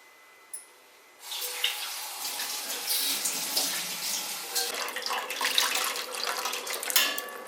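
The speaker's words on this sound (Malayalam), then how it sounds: "ഇത് നമുക്കിനി അരിച്ചിങ്ങെടുക്കാം." Hot juice is poured through a strainer after a brief clink, giving a continuous splashing, trickling flow of liquid with light utensil knocks, close and moderately loud.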